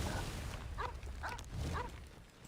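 A dog in the video game Genshin Impact gives three short, faint yips spaced about half a second apart over a soft background hum.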